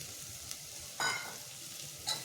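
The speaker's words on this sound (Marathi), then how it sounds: "आणि त्याला एक मस्त स्टर करणार. हलवून घ्यायचं ह्याला एकदम चांगलं" Vegetables with asafoetida stirred in a frying pan for pudina rice, a steady close sizzle broken by two sharp scraping stirs about a second apart.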